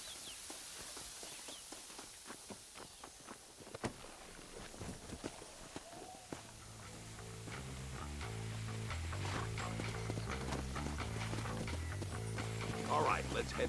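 Horse hooves clip-clop steadily in Red Dead Redemption, a string of light, fairly quiet hoofbeats that continue as game music swells and grows louder underneath.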